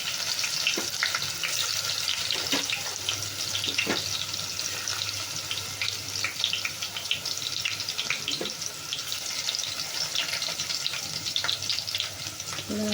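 Garlic frying in oil with cumin seeds while cooking a wild-vegetable bhaji gives a steady close sizzle, with occasional clicks and stirring knocks scattered through it and no talking.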